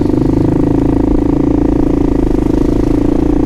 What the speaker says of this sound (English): the noise level on the bike right now a bit on the obnoxious side